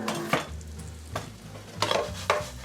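Pumpkin gnocchi sear in a hot pan with a soft continuous sizzle, broken by a few quick scraping tosses, close and fairly quiet.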